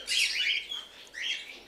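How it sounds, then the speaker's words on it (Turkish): Cockatiels at a parrot breeding facility chirp in bright, overlapping high-pitched calls that come close and loud, with a brief dip before a second burst of chirping. "Burada sultan papağanları var"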